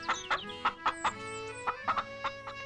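Hens cackling on a farm, a series of short clucking calls in an irregular rhythm, close and clear, with a steady background tone underneath.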